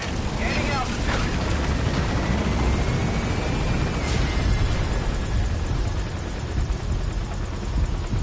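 A helicopter thrums steadily in Metal Gear Solid V: The Phantom Pain, a loud continuous rotor and engine drone that persists throughout, with muffled voices underneath.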